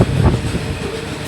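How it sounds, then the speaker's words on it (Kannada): A long goods train rolls past on the railway, its low rumble loud and steady right from the start, with a heavier surge in the first moment and no voices. "ತುಂಬ ದೊಡ್ಡದಾಗೆ ಇದೆ ಗೂಡ್ಸ್ ಟ್ರೈನ್."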